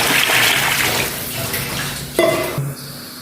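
Water pours steadily into a pot of fried carrots and potatoes being made into vegetable rice, a close gushing splash that tapers off, followed by a brief clink of the pot.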